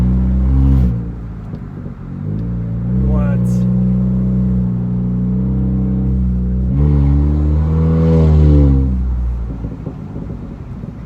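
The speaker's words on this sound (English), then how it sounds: "Yeah, I could hear the turbo." Honda Accord 1.5T turbo with the resonator deleted, heard from inside while driving near a highway exit between walls and trees; steady engine drone and turbo spool swells rise and fall, with brief talk over it.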